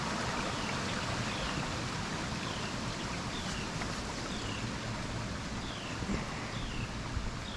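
A small waterfall and flowing creek run in a wooded park preserve, giving a constant soft wash of babbling water at moderate distance, with a few faint bird chirps over it.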